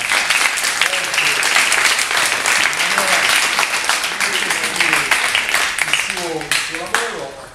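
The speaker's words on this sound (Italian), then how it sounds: "un applauso per il Presidente del Consiglio" Students at a youth town council meeting give a sustained, loud round of applause for the council president, clapping densely throughout while voices talk over it toward the end.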